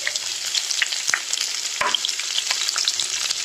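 Crushed garlic frying in oil with mustard seeds, a close crackling sizzle with spattering pops and occasional stirring knocks, with no voices.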